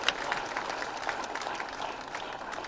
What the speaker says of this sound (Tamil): அதுக்கே அந்த அத்தனை பத்திரிகையாளர்களுக்கும் கைத்தட்டு கொடுங்க